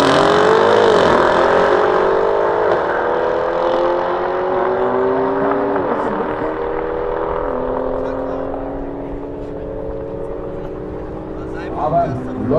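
A Mercedes-AMG GT63S making 850 hp launches down a drag strip, its engine note climbing in long rising sweeps and staying loud throughout, with a commentator talking over it.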